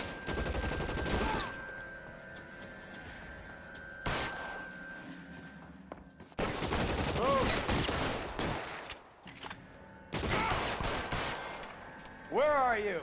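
Machine gun fire in L.A. Noire, with loud bursts of automatic shots separated by short pauses and shouted voices and game sounds between the volleys.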